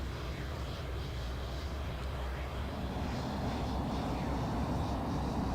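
A light aircraft engine in Microsoft Flight Simulator 2020 drones steadily and at moderate level throughout, with a slight swell in intensity toward the end.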